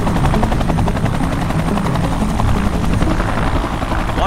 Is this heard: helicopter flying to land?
yes